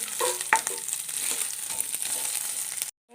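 Grated coconut frying in a pan for a soya roast, a close, steady sizzle with a few sharp scraping stirs, ending abruptly in silence.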